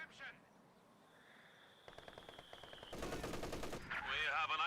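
Rapid machine gun bursts in Company of Heroes battle, a dense rattling volley growing louder toward the end, with a steady high tone and game voice chatter underneath.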